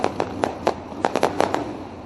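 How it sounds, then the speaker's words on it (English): Fireworks burst at a sprint car race track, a quick run of sharp cracking pops in an uneven rhythm, loud and fairly close, with no talk over them. "Lone Wolf Fireworks lighting up the sky"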